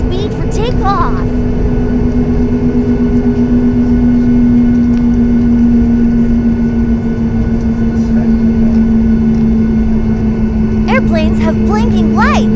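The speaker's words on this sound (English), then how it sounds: "The airplane needs room to build up speed for takeoff" Airliner at Orlando MCO building speed down the runway for takeoff, a loud steady engine roar with a sustained low hum filling the cabin throughout, with brief voices near the start and end.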